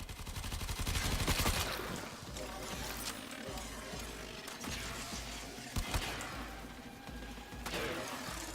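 Rapid automatic gunfire from the Tenaro, a light-machine-gun-style weapon in the video game Warframe, rattling in a dense sustained burst at first, then continuing as scattered shots and mechanical clatter over game ambience.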